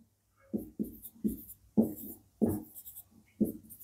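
Pen strokes on paper while working a math problem, six short scratchy bursts in an uneven rhythm, close and fairly quiet, with no talking.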